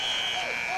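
A steady electronic buzzer sounds continuously to end a period at a high school wrestling state finals dual meet in a gym, with a voice faintly under it.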